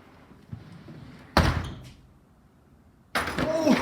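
A door slams shut with a loud, sharp bang, then a second loud burst of noise follows a moment later, with faint background sounds between. Recorded indoors on an urban homestead rescue ranch.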